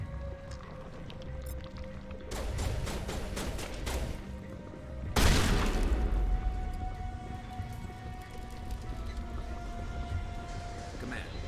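Pistol gunfire during a Mass Effect combat fight, sharp bursts of rapid shots followed by a loud blast, with a person talking over the action.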